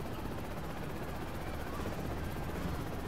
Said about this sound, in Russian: Мой собственный вертолет.